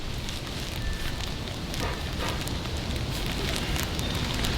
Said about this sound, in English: So it's a little windy here today.